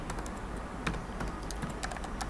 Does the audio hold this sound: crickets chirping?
no